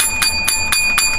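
Bell rung in a steady series of bright metallic strikes with lingering ring, about four clear strokes heard here, loud and close with no talk over them.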